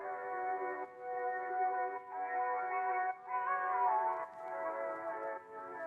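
An R&B vocal sample from a producer's sample kit plays as sustained, harmonically rich tones in a narrow midrange band, phrased in several held sections with brief gaps, thin and boxy, with no speech.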